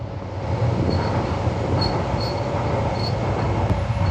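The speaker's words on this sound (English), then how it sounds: "train just about going past there" A Docklands light rail train in London rumbles steadily past nearby, with a low continuous roar and faint high wheel squeals on the rails.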